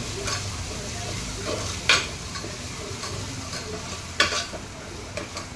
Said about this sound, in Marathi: आता हे छान परतवून घेऊ